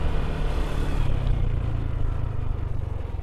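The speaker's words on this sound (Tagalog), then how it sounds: "So, first time ni parent TJ mag-rides ng sa motor ng ganito kalayo" A motorcycle rolls out through a gate at the start of a long ride in Quezon, its engine a steady, close, low rumble with slight revving and no talk.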